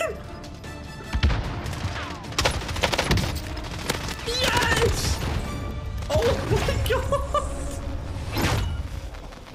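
Gunfire in Warzone, scattered sharp shots and bursts of automatic fire mixed with impacts and game effects throughout, loud and close, with a voice talking over parts of it.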